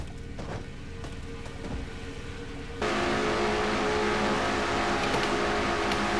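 Race cars roar past in a racing video game's Castrol GTX Cup Series Mello Yello 500, a distant engine drone swelling abruptly into a loud, sustained full-field pass.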